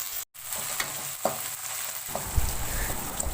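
Carrots, beans and green peas sauté in a pan for egg fried rice, giving a steady close sizzle broken by a few stirring scrapes and a brief dip near the start, with no talking.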